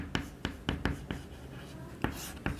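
Handwriting of volume units in a physics lesson, heard as a series of sharp, close pen or marker strokes tapping and scratching in an irregular rhythm, with no talk over them.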